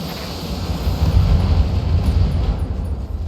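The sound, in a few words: ammo explosions destroying a mech in the video game BattleTech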